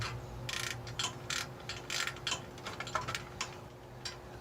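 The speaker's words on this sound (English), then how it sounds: "It's like the perfect time for a good ratchet." A ratchet wrench is worked in short repeated bursts of clicking while trailer lights are rewired, sounding close and fairly loud with no talking.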